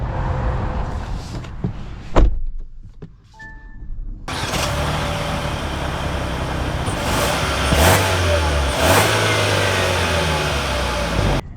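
2025 Kia Sorento X-Pro SX Prestige SUV on the move, a steady broadband drone of engine and road noise that swells slightly as it accelerates, heard close and alone after a few quiet clicks.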